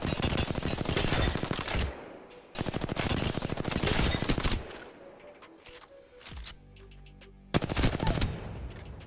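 Rapid automatic gunfire at a training dummy in the video game Apex Legends, two long loud bursts, then a shorter one after a pause, with a voice briefly audible between them.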